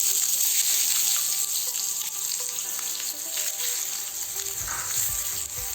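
Chopped onions sizzle in hot oil in a pan, a steady close frying hiss with occasional stirring scrapes and crackles.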